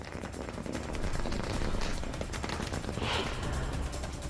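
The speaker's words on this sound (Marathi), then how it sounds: "राष्ट्रवादीच्या कार्यकर्त्यांनी आकाशवाणी चौकात फटाके फोडून जल्लोष केलाय।" Firecrackers burst in dense, overlapping crackles during a street celebration by party workers at Akashvani Chowk in Jalgaon, a continuous loud rattle of pops with no clear gaps.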